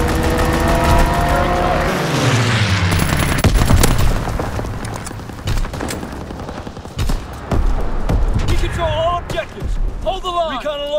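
A fighter aircraft makes a machine-gun strafing run in a video game: loud engine roar with a pitch sweep, dense bursts of rapid gunfire, then sharp scattered shots and warbling tones toward the end.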